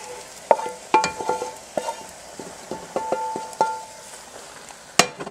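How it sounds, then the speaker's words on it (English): Pasta being stirred with sauce in a pan, giving irregular scraping and clinking strokes of utensil against the pan, close and moderately loud with no speech. "Mix it with the pasta."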